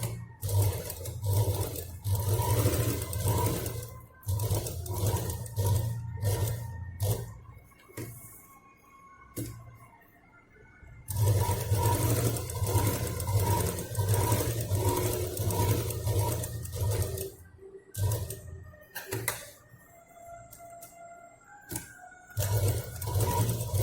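A sewing machine stitches the sides of a fabric drawstring handbag made without sponge or zip, running in long, loud, humming bursts close by, broken by brief pauses and fabric scraping.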